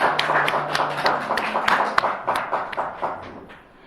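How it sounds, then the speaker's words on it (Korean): Congregation applauding together during a church worship service on the last day of the year: a dense, steady patter of many hands clapping at once, fairly close and lively, fading slightly toward the end, with no talking. "서로 축복하며 박수합시다"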